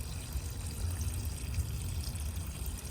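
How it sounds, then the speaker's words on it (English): Fresh water pours steadily out of the drain-off point of a 2025 Swift Voyager 485 motorhome's tank, a continuous low rushing gurgle heard close and alone. "if you twist the handle around, you'll see that all the water's draining out"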